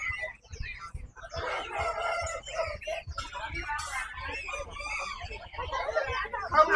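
Dong Tao chickens crowing and clucking at a busy pet and animal market in Hai Phong, Vietnam, with other fowl nearby; crows and clucks come up close amid the crowd, and people talk through it.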